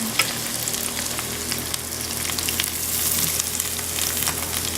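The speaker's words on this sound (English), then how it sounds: "The falafel is browning." Chickpea falafel frying in a pan, a dense crackling sizzle with scattered sharp pops, close and steady throughout with no voices.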